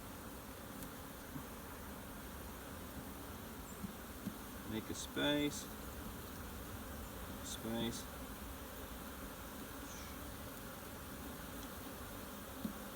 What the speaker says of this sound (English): These bees know now that there's no queen in there.